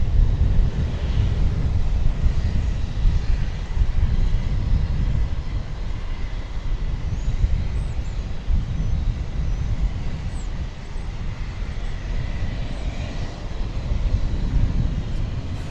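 A Boeing 737-800 takes off at DFW Airport, its engines giving a steady, broad roar that holds fairly loud throughout, mixed with wind buffeting on the microphone.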